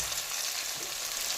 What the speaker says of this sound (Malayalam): അപ്പൊ നമ്മുടെ ചെറുള്ളി, ഇഞ്ചി, 2 പച്ചമുളക് ഒക്കെ കൂട്ടൊന്ന് വഴറ്റിയെടുക്കാം നമുക്ക്